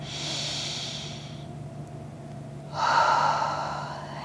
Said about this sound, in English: Another deep breath in and out.